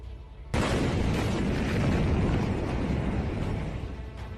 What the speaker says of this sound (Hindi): बम धमाकों ने पूरे शहर को दहला दिया।